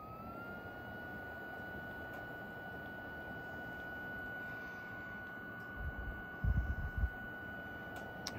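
The fan of a BioLite CampStove 2 runs at a raised speed over a burning fire, a steady close whoosh with a thin whine riding on top and a few low bumps near the end.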